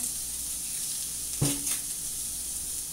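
Vegan fry-up food cooks in a pan with an even, close sizzle, broken once by a brief clatter of a utensil against the pan before the frying hiss settles back.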